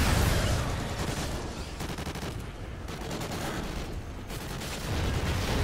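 A minigun in a zombie-style video game fires a continuous, loud, dense stream of rounds, a relentless roaring rattle with no pauses across the whole stretch.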